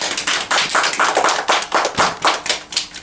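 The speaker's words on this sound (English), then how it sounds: "Let's give this class a round of applause." Applause for a school class after a presentation at a school news assembly, with a small group clapping in quick, uneven claps, close and fairly loud, with no talk over it.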